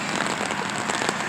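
Rain pattering on an old, worn umbrella held overhead while jogging, a dense, close, steady crackle of drops with no voices.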